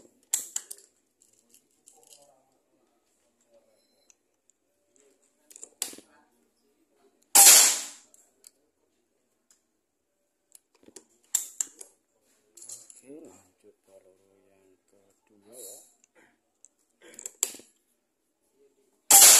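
A Predator Tactical PCP air rifle fired at 2700 PSI with Hercules pellets during an accuracy test: several sharp, close shots spaced seconds apart, each followed by a faint pellet impact, with quiet pauses between.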